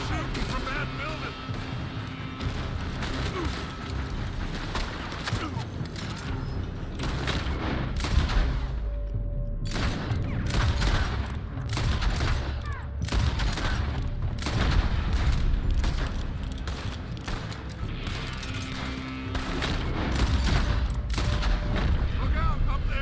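A dense gunfight in Red Dead Redemption 2 with enemies shooting from a building: loud, overlapping rifle and pistol shots and heavy bursts go on without a break, with voices talking beneath the firing.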